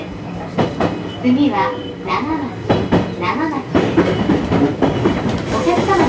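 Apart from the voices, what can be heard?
JR East Joban Line local train running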